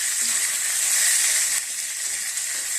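Chana dal sautés in a hot pan for a Tamil chutney, giving a steady, close sizzle and hiss that runs throughout with a slight drop in intensity partway through.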